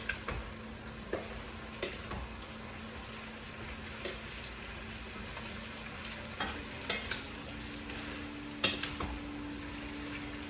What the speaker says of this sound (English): that's probably about 2 quarts of squash and zucchini. And I'm gonna let those saute a little bit.